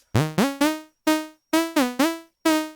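A Vital synthesizer preset plays a short run of separate notes, each sliding up into pitch with a quick portamento glide, bright and buzzy, alone with no voice.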